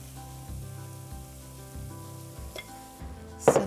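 Food fries in hot oil until brown and crispy, giving a steady close sizzle under a faint low hum, with a sharp clink of a utensil near the end.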